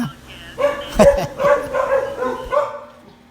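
A dog gives a few short barks and yips amid soft background noise, fairly close.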